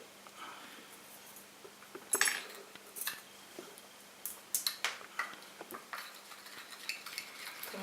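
A stir stick tapping and scraping in a container while mixing a homemade edible cosmetic powder, producing soft irregular clinks that cluster more toward the end, quiet and close.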